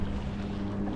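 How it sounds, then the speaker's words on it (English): Steady wind noise buffets the microphone while paddling on open water with a Bixpy K1 jet on an inflatable paddle board, a continuous low rumble with no talking. "It's a little windy, you could hear the wind."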